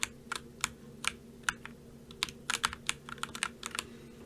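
Keys clacking on an RK98 100-key mechanical keyboard during play of Black Mesa, sharp close clicks in irregular bursts over a quiet low hum, with no speech.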